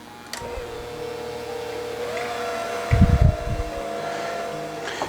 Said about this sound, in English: now I'm just going to use a hand mixer to mix this up